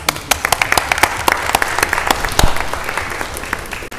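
Audience applause fills a city council meeting in Mobile, Alabama, a dense, steady clapping from a room full of people, with sharper individual claps standing out and no one speaking over it.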